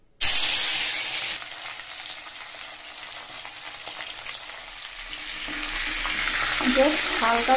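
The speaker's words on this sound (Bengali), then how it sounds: "হালকা করে একটু মাছগুলো ভেজে নিয়েছি তেলেই।" Hilsa fish pieces fry in hot oil with a loud, dense sizzle that starts abruptly and holds steady, with stirring and scraping toward the end.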